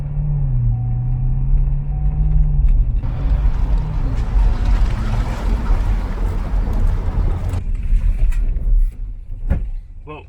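A V8 car accelerates while driving, its engine a loud, close low rumble that swells as the throttle opens, with some road and cabin noise and a short spoken exclamation near the end.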